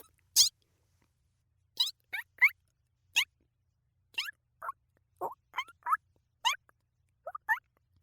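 A person imitating a chicken in a low voice, producing a string of short clucking calls in uneven clusters, close and alone with silence between.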